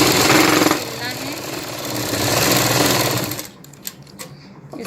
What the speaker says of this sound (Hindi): अब इसको आप चारों तरफ से सिल लीजिए।